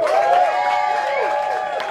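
Crowd noise at a live roast battle comedy show, with an audience cheering and making noise after a call to support a comedian named Chicken, a dense sustained roar with overlapping voices throughout.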